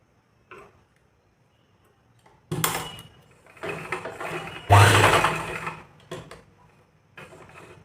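A sewing machine stitches a fabric strip onto a small newborn baby cap in several short, loud mechanical bursts separated by quiet pauses and faint handling clicks.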